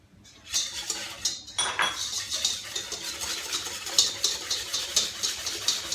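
Clafoutis batter with chorizo, emmental and courgette mixed briskly in a bowl, a utensil clinking and scraping in quick, steady strokes, close and moderately loud, with no talking.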